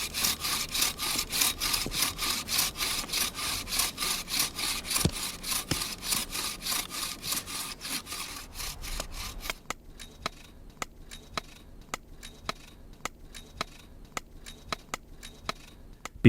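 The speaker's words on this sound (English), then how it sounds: "The trunk is sawn into sections roughly 22 centimeters long" A wooden trunk is hand-sawn into sections about 22 centimeters long for rake teeth, with quick, regular rasping saw strokes that later turn slower and crisper as separate sharp pulls, close by and alone without speech.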